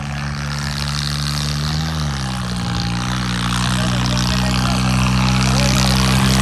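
Tractor engine labouring loud and steady while pulling a trolley at a rural trolley-pulling contest, a constant heavy drone that rises slightly in pitch and strength toward the end.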